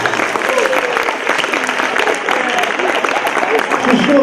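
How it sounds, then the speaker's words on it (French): A crowd claps steadily and loudly for a few seconds at a high school pleading contest in Saint-Malo, while a voice talks over the applause. "vous pouvez applaudir Claire et Céline"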